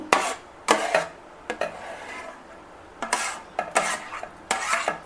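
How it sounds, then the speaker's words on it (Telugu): Chilled homemade mango ice cream mixture is tipped into a mixer jar, giving intermittent clinks and scrapes of a spoon against the container in short bursts with quiet gaps between them. "ఇప్పుడు ఒక మిక్సీ జార్ తీసుకొని ఇందులోకి మొత్తం వేసేయండి."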